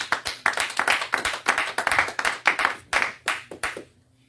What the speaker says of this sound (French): Applaudissez le Seigneur de gloire